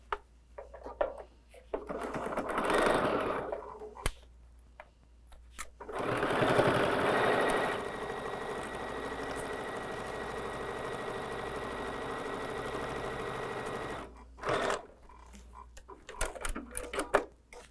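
A sewing machine stitches the seams of a fabric laptop case made from charm-pack squares, starting in short bursts and then running steadily for about eight seconds before stopping, with soft handling noises around it.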